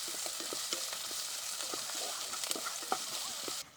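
Onions, ginger, garlic and green chilli sautéing in a pan for potato pulao, a soft continuous sizzle with light scattered clicks of stirring, fairly quiet and close.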